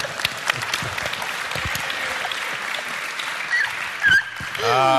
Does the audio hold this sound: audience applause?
yes